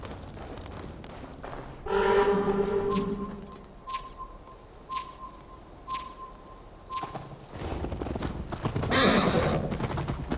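Horse hooves clip-clop at a steady, regular pace in the Viking-era game Assassin's Creed Valhalla, with a loud whinny near the start and swelling noise later.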